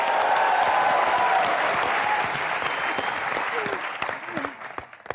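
Studio audience on a comedy talk show applauds loudly to welcome a guest, dense sustained clapping with cheers that tapers off toward the end, with faint voices beneath.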